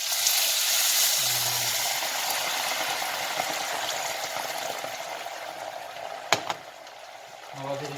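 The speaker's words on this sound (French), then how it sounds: "On vient déglacer avec l'eau après 1 minute." Water hits a hot pan of green asparagus and sets off a steady, bright sizzle and hiss that slowly eases, with a brief clatter near the end.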